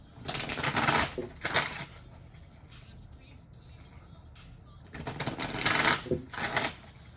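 Tarot and oracle cards being shuffled by hand in two bursts of quick riffling and flicking, with a quieter stretch of soft handling between them; no one speaks.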